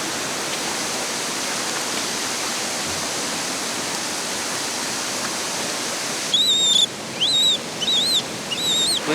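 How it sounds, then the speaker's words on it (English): Crystal-clear mountain water rushes in a stream in the Bolivian Andes, a steady broadband hiss close by, while several high bird chirps ring out over it near the end as men wash themselves in the stream. "For Omar and Jaime, the crystal clear mountain water is better than any shower or bath in a hotel room."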